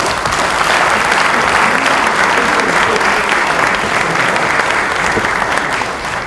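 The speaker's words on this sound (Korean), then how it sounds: "박수 한번 보내주시기 바랍니다" Lawmakers at a National Assembly caucus meeting give Kim Tae-nyeon a long, even round of dense applause that fills the room for several seconds without a pause.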